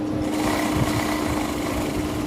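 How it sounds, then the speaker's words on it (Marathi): A sewing machine runs continuously at steady speed while stitching a straight seam along a zipper being attached to fabric from an old dress, a loud close whirring drone with no pauses and no talking. "चेन अशी उलटी ठेवायची सरळ शिलाई मारून घ्यायची बघा"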